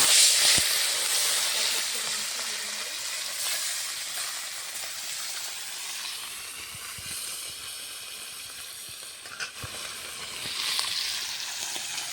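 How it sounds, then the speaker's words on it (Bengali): Mustard-oil-coated fish fry in a wok with a continuous loud sizzling hiss that swells and eases, broken by occasional sharp pops and spatters. "কড়াইতে আমি দিয়ে দিয়েছি সর্ষের তেল মেখে রাখা মাছগুলো এখন দিয়ে ভেজে"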